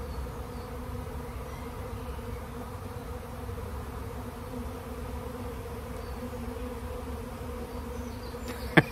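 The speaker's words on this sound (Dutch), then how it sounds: "Steeds meer bijen zullen zich rond de ingang van de kast gaan ophopen en uiteindelijk de kast binnenwandelen." A spontaneous honeybee swarm gathering at a hive entrance and walking in, producing a steady, dense, close buzzing hum that holds for the whole stretch with no voices.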